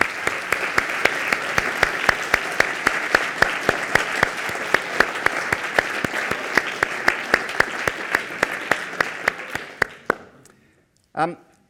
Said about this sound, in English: I think you should all give yourselves a big round of applause